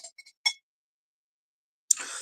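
A whiskey glass handled at a pub-style setting: a few quick, bright clinks and taps of glass, then a louder ringing clink followed by a short rustling scrape, close and crisp against silence.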